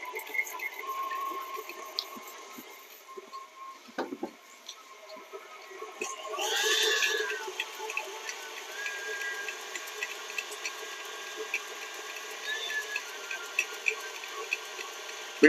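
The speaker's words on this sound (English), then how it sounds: "we're going to turn on the stand mixer and just incorporate that butter and sugar" Stand mixer creaming butter and sugar, a steady whirring motor hum with a rising whine in the middle and light ticking and rattling throughout, fairly faint and close with no talking.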